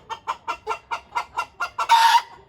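Fayoumi chickens cluck close up in an even series of about eight sharp clucks, then one longer, louder squawk, with no talking.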